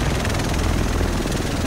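A helicopter in the video game The Division gives off a loud, continuous rotor whir and engine drone, close and steady with no voices.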